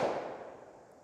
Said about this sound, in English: 44 cal, this should be somewhat of a max load in this cartridge, so we should see over 1600 feet per second.